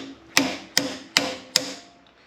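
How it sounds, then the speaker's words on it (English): Four sharp metallic hammer taps, about 0.4 seconds apart, strike needle-nose pliers gripping a screw to pull the plug from a Suzuki DRZ400S carburetor during a rebuild, heard close and alone with no talk. "I grab that screw and I'll tap on it with a hammer to get that part out of there."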